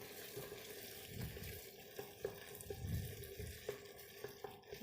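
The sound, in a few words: water poured into pot over white beans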